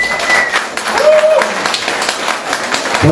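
A church congregation claps and applauds at a Spanish-language worship service, with broad steady clapping running throughout while a voice speaks over it.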